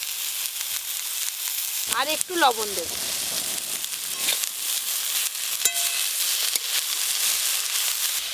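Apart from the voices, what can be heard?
vegetables and greens stir-frying in a pan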